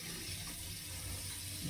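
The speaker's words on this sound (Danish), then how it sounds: "Nu lad os så hælde noget mere vand i." Water poured into a pan while cooking fried beef patties in a home kitchen: a steady, close, continuous rushing stream that holds at an even level throughout, with no talking.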